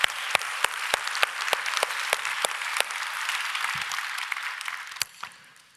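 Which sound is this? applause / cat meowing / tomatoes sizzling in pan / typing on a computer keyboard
applause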